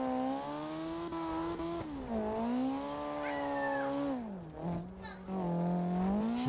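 Sonata Turbo car drifting in CarX Drift video game, a sustained whining engine drone that rises and falls in pitch with the throttle, accompanied by faint tire squeal.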